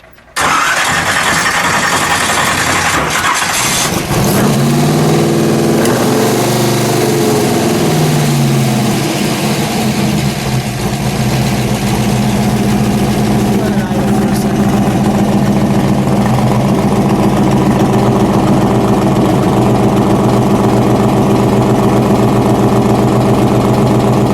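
A 1958 Scarab race car's V8 engine fires up with a sharp start, then settles into a loud, steady, throbbing idle close by, running continuously with no talk.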